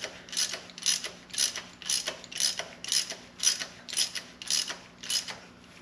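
A hand ratchet drives a Time-Sert thread repair tap in a BMW M52/M54 engine block, giving about ten evenly spaced bursts of rapid pawl clicking, close and clear with no talking.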